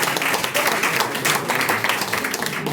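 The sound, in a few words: audience applause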